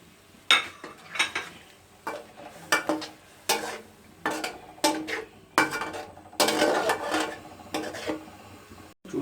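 Tomatoes being mashed in a cooking pot for a chicken karhai, with repeated scraping, knocking strokes of a utensil against the pot in uneven bursts and short pauses between them.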